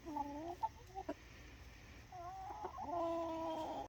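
Chickens and a rooster cluck softly nearby in a quiet outdoor setting, with a series of short clucks and a longer drawn-out call toward the end.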